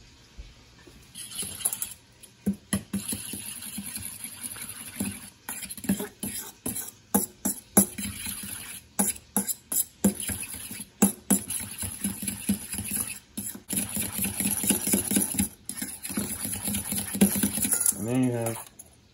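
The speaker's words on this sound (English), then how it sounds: "whisk it up." Eggs with a touch of salt whisked in a bowl for spaghetti alla carbonara, a fast irregular clatter of whisk against the bowl running nearly throughout, fairly close and moderately loud.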